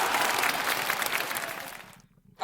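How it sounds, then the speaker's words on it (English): Shrill crowd applause from the video game Lobotomy Corporation, a dense continuous clatter of clapping that fades out abruptly near the end, heard alone. "The applause is pretty shrill, eh?"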